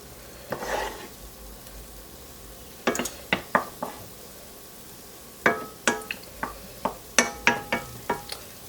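Translucent cooked onions scooped from a pan into a bowl, heard as a burst of soft scraping followed by a series of crisp metallic knocks and taps of the utensil against the pan, close by.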